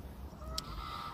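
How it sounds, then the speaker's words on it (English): Ducks calling in the background beside a brook where it meets a river on the outskirts of Bath, a single brief honking quack rising faintly over steady outdoor water and ambient noise. "you can probably hear the ducks in the background"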